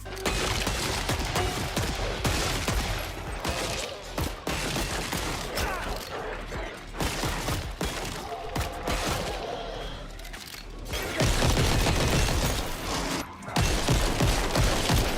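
Sustained gunfire in the shooter game Killing Floor 3, with steady rattling bursts, a brief lull near the middle, then a louder stretch of shots and impact effects toward the end, with no talking.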